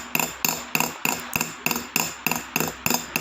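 Steady close tapping of a small hammer driving metal toward seeded stones in jewelry setting work, about ten bright metallic strikes in an even rhythm, several with tiny rebound clicks, no voices.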